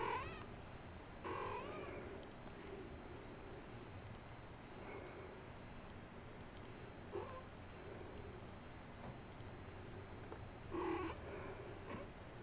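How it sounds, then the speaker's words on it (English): Persian kittens in a braided bread basket make soft, quiet purring and rustling sounds, with a few faint mews scattered through a low, near-silent background. "It's a basket full of kittens."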